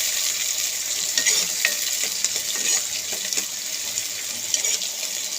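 Onions frying in a pan for a tamarind curry, a steady bright sizzle with scraping stir strokes throughout, moderately close and with no voices.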